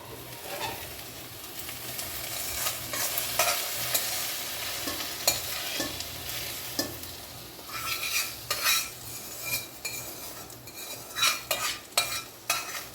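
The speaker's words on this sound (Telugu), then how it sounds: "ఇవి వచ్చేసరిగా మంచిగా ఓమాకు అంతా వేగిపోయింది" Carom leaves frying in oil in a pan, a steady hiss and crackle with repeated metal spoon scrapes and clinks as they are stirred, close and moderately quiet, with no voices.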